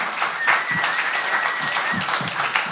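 An audience at an Advent church service applauds steadily, a dense patter of many hands clapping at moderate volume throughout.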